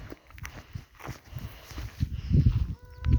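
Cows gather on a village farm, with heavy shuffling hoof steps and low bovine grunts nearby that grow louder toward the end, and no talking.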